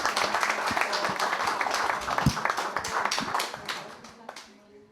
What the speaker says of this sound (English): So can we just give him a round of applause?